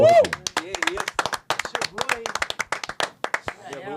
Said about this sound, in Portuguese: Eu quero até aplauso pra ela, hein?